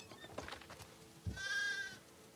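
A sheep bleats once, a short wavering cry fairly close, among faint farm noises in The Last of Us Part II.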